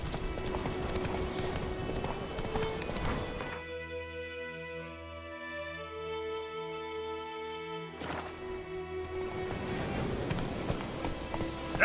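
Roach, a horse in The Witcher 3, gallops with rapid rhythmic hoofbeats for several seconds. A lull follows with sustained tonal game music, then the galloping returns, fairly loud and close.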